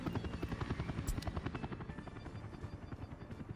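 Steady, rapid rotor thump of a helicopter in the city-building game Workers & Resources: Soviet Republic, a constant buzzing chop heard alone and fairly close throughout.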